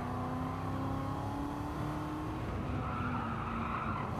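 A De Tomaso Pantera brakes hard in Gran Turismo 7, its tires skidding and squealing in a loud, continuous screech over the engine roar, with no voices.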